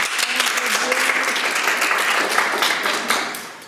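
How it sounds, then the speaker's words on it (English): A crowd at a magic show applauds steadily, dense clapping with some cheering voices mixed in, sustained throughout and tapering slightly at the end. "let him know with your applause"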